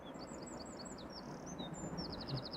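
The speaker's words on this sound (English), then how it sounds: "You can hear the birds chirping, always lovely." Birds chirp outdoors beside Amsterdam Schiphol Airport on an almost windless spring day: quick, high chirps and short trills repeat over a steady low rumble of wind and distant noise.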